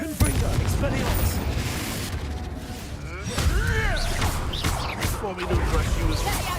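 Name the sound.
spell blasts (Bombardo, Confringo) in Hogwarts Legacy video game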